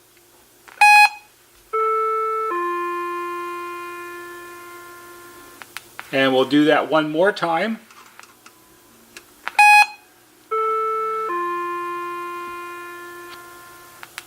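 A NuTone IM5000 intercom gives a short activation beep followed by the chime module's sustained doorbell tones, a brief rattling of handling noise in between, then the beep and chime repeat; someone speaks briefly.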